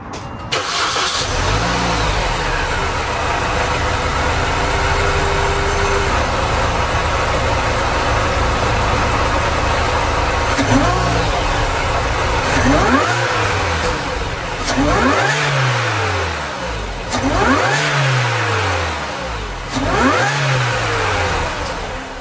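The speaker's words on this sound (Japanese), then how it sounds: "それじゃあエンジンかけます。" A Mini Cooper S engine cranks and catches, idles roughly, then revs up several times in sharp rising bursts, loud and close.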